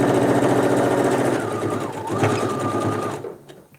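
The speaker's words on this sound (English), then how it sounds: "I'm just doing a straight stitch here, just a simple hem, because it works for this fabric" Sewing machine running a simple straight-stitch hem on casual pants, a steady loud motorized whir that holds for about three seconds, then slows and stops near the end.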